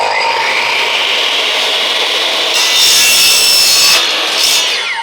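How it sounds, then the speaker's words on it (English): A drop saw cuts through a PVC downpipe, a loud rasping whir with the blade biting and squealing through the plastic in a few surges near the end. "I'm using a drop saw to cut it because the drop saw cuts it nice and neat"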